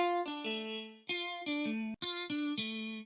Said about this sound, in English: Then we're adding in this electric guitar,